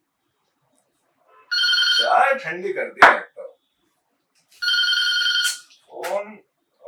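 Telephone ringing in two distinct electronic bursts separated by a pause, loud and close, with a voice speaking between the rings.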